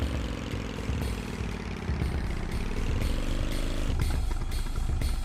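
A quad bike engine in Tomb Raider 3 drones loudly and continuously, its pitch sliding up and down as it revs, mixed with clattering in-game noise.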